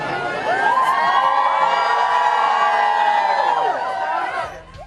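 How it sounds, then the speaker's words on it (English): A throng of fans cheers Melbourne-born McLaren driver Oscar Piastri on his arrival at Albert Park for the Australian Grand Prix, a loud, sustained wash of shouts and whoops from a large crowd that fades at the end. "cheering fans."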